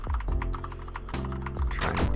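Several quick computer keyboard keystrokes clack close by over a steady low hum and background music, in short bursts with small gaps between them.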